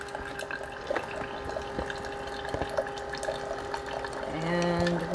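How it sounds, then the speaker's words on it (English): Water trickling and hissing through a Keurig K Mini single-serve coffee maker during a cleaning cycle, a steady close flow with a faint pump tone that grows louder near the end. "and we do have water coming through there."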